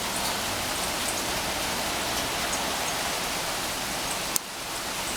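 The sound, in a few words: hailstorm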